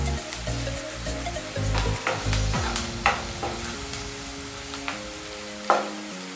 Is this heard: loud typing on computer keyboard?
no